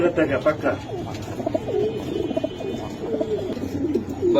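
Pigeons coo repeatedly at close range in low, throaty rolls at a pigeon farm in Mirpur, Dhaka, with people talking over and between the calls.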